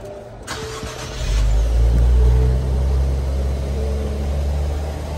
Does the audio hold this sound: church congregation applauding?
no